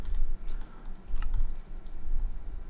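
Quick bursts of clicking keystrokes on a computer keyboard, typed into a search field in modded Minecraft, close and fairly soft over a low steady hum, with no voices.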